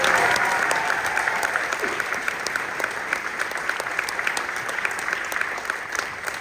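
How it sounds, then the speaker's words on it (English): An audience at a Disney theme-park theater premiere for the Country Bear Musical Jamboree claps loudly and continuously, a dense, even patter of many hands sustained throughout. "Big round of applause for Ken Ricci."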